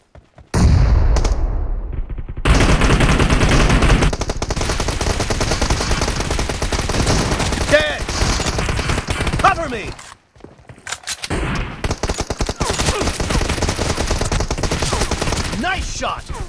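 Rapid gunfire in the video game PUBG during a team deathmatch, dense loud bursts of automatic shots that continue almost without pause, broken by a couple of short silences.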